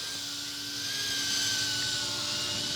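An F11 Apache RC helicopter flies 3D aerobatics, its rotor and motor giving a steady, high whine that swells slightly as the throttle comes back up. It sounds fairly close, with no talk.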